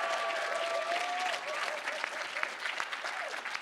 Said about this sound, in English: Let's give a round of applause for Sam.